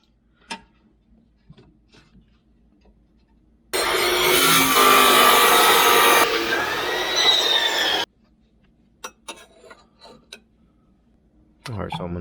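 A cheap Harbor Freight hand saw cuts for about four seconds in a loud, rough burst. Quieter clicks and taps come before and after it, and there is a brief noise at the very end.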